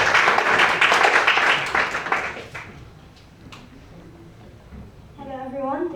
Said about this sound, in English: A round of applause for Dara, please